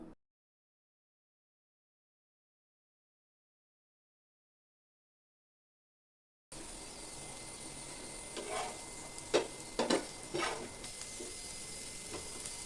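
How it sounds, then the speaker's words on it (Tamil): Elephant foot yam pieces frying crisp in a pan give a soft, steady sizzle after several seconds of silence, with a few stirring scrapes and clinks clustered in the middle. "இப்படியே பெரட்டி விட்டு பெரட்டி விட்டு வேக விட்டுக்கலாம்"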